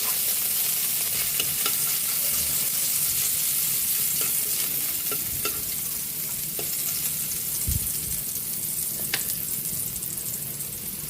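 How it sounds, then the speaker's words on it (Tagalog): Garlic sautéing in a pan for ginisang upo, a Filipino bottle gourd dish, giving a steady, dense sizzle with occasional sharper crackles and stirring clicks throughout, close and continuous with no talk. "Lagyan na natin yung bawang para sa ginisang upo."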